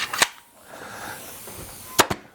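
A staple gun driving staples into theater chair upholstery gives three sharp, close snaps, one near the start and a quick double shot toward the end, separated by quiet handling noise.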